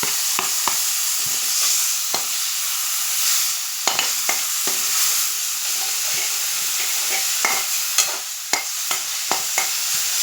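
Grated tomato gravy cooks in a hot pan, giving a steady bright sizzle and hiss with scattered sharp crackles and pops from spitting oil, close by and continuous.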